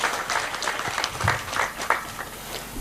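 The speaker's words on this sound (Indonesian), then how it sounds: "Tepuk tangan buat Pancasila" A crowd at an outdoor religious lecture on a field in Sragen, Central Java, claps in a brief ragged burst of applause, moderately loud and close.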